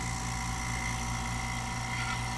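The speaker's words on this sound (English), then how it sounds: "Kick the pump on." Vacuum pump running for a DIY lost wax vacuum canister used when pouring metal: a steady, faint mechanical hum and drone with tonal whine, continuous throughout.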